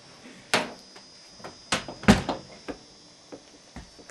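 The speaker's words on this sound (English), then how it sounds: "I guess I could close the door." A door thuds shut nearby with several knocks and clunks, set against a quiet room with a steady high hum.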